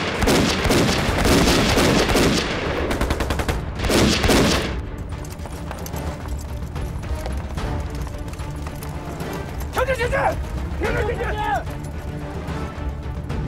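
Rifle fire rattles in dense, loud bursts during a war film battle scene, then drops away to a quieter stretch with shouted voices and scattered movement.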